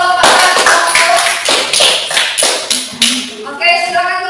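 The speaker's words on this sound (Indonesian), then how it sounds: "Oke, tepuk tangan untuk kelompok 1." A classroom group claps for the first presenting group, loud close hand claps in an uneven rhythm that build and then fade as a voice begins to speak at the end.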